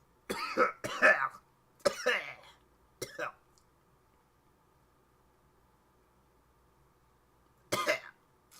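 A person coughs in several harsh bursts close to the mic in a quiet room, a pause, then one more cough near the end.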